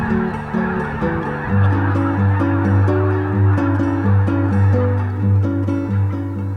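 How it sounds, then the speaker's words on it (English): A large flock of blue, snow, Canada and white-fronted geese honks in winter fields at an Arkansas national wildlife refuge, dense overlapping calls, loud and continuous, with no talking. "large, and we do mean large, concentrations of blue, snow, Canada, and white-fronted geese can be seen out in the fields"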